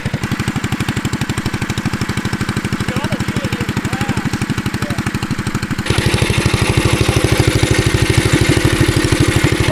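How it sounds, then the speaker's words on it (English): A mini bike fitted with an oversized $25 flea market engine runs with a loud, steady, fast-pulsing chug that grows louder and rougher partway through as the throttle opens. "Wow, that's a lot of engine right there"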